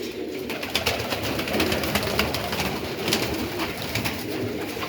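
Pigeons, including a blue-grey broad-tailed pigeon, coo in soft, repeated low calls, several birds overlapping at close range with a constant background murmur.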